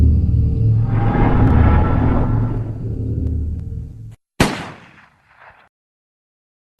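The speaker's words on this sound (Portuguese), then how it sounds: "um evento de grande impacto, como uma explosão ou um tiro" Explosion or gunshot sound effect: a long, heavy rumbling blast that sustains for about four seconds and cuts off, followed by a sharp loud bang and a short decaying tail, then silence.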